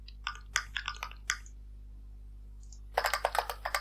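Keyboard typing from a keyboard sound app: crisp clicky key presses in short irregular bursts, a few scattered taps, a pause, then a quicker flurry of clacks over a low steady hum.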